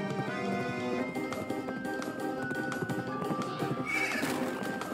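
A horse in the video game Pumpkin Jack neighs and gallops, with rhythmic hoofbeats under a loud whinny and background game music, close and prominent.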